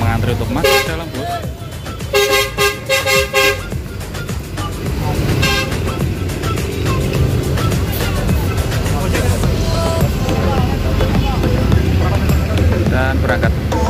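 A full passenger bus departs a busy terminal in Serang, bound for Tulungagung and Trenggalek, with a loud engine rumble, several horn toots early on and a steady crowded din under chatter.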